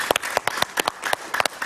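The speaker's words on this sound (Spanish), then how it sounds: "Un aplauso para Alexis Ortiz." Studio audience applause on a Spanish-language television talk show, heard as sparse, individual claps spaced irregularly, fairly close and alone with no talk.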